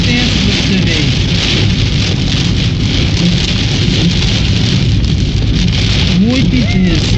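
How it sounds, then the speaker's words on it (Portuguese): Intense rain pours on a car driving along the BR-163 highway, a loud, constant roar of drops with no breaks and a faint vehicle rumble beneath, while the driver talks over it. "Voltando da chácara aí, é uma chuva intensa pra você ver."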